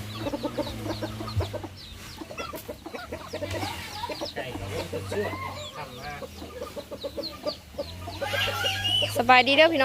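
Chickens cluck and call outdoors in a steady, busy stream, with a few sharper squawks near the end and faint voices murmuring underneath.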